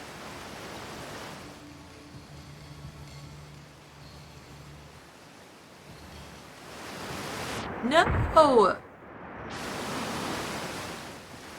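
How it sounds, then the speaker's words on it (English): Continuous broadband roar of a rushing waterfall in the video game Outer Wilds swells and fades, with a brief shouted exclamation partway through. "That waterfall is trying to kill me."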